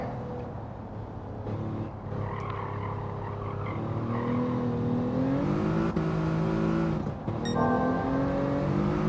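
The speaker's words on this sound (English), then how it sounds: "The way the tires are spinning now up this hill, that's realistic." Car tires spin and slip while climbing a hill in Gran Turismo 7 at Streets of Willow, a steady engine drone with rising whining tones running throughout, with no talking.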